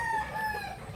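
A rooster crowing in a backyard fly pen, a loud sustained crow filling the second with a drawn-out tonal call close by, no talk.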